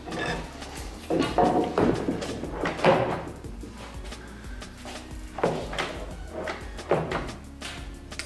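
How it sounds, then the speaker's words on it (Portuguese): A wooden drawer is slid and knocked back into place in a cabinet for a Kombi van, with a series of close scraping slides, bumps and thuds spread unevenly through the passage. "agora eu encaixo a gaveta novamente para ver se rolou"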